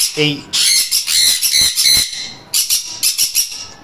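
A Sun Cheek Conure parrot gives loud, harsh, shrill squawks in rapid bursts, close by: one long run of calls, a short pause, then another volley of choppy screeches.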